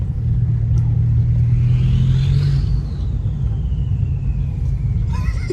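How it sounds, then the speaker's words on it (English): A straight-piped car engine with a turbo runs loud and close, a deep steady rumble with a rising then falling turbo whine over it. "That's a lot more turbo noise,"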